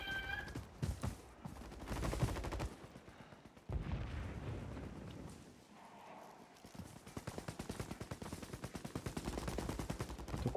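Rapid bursts of gunfire in the video game Call of Duty, with sustained automatic volleys and shots rattling on and off over about ten seconds at fairly loud level.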